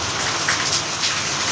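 Steady rain falling outdoors during a walk, a dense even hiss of drops with slight swells, no voices over it.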